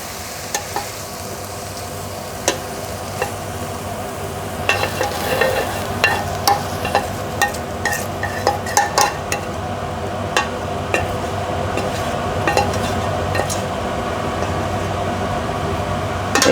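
Vegan one pot pasta being stirred in a pot over high heat, with oil in the pan: a steady bed of sizzling and frying noise, punctuated by scattered sharp scrapes and clicks of the utensil against the pot.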